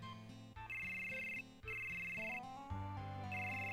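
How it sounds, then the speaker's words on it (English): Phone ringing inside a video game, a continuous electronic ringtone melody of stepped tones with a repeating high trill, steady and clear, with no talk. "That's the game, but that's the phone in the game."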